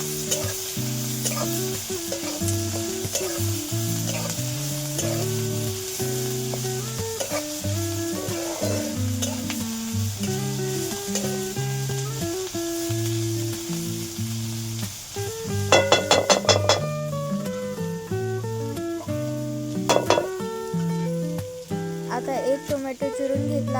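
Onion and coriander frying in oil in a pan for a Bombil (Bombay duck) bhaji, a steady loud sizzle with repeated scraping stirs, a few sharper clinks near the end, against background music.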